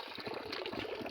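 Water running steadily from a tap in the morning, a faint continuous splashing wash heard on its own at low level.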